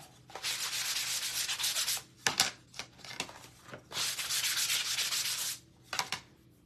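Steady scratchy strokes of a sanding block, long rhythmic passes broken by short quick rubs, close by with no talking.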